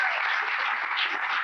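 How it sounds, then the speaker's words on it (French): A studio audience on a Quebec TV show claps for Yann in a steady, even burst of applause, with no voices heard over it. "bravo Yann, je pense qu'on peut l'applaudir"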